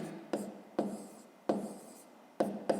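A pen writes out a math expression in five quick strokes spaced through the passage, each a faint, close scratch on paper in a quiet room.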